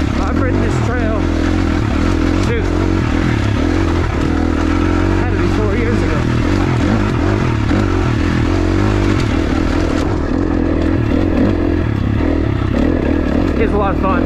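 Off-road motorcycle ridden along a trail in Southern Utah, its engine droning steadily and close throughout with clatter and scraping from the terrain, and a voice talking over it.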